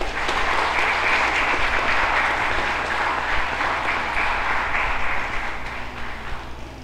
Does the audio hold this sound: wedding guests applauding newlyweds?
yes